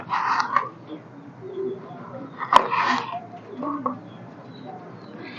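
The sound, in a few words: pigeons cooing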